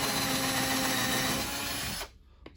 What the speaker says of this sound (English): We'll drill a couple pilot holes.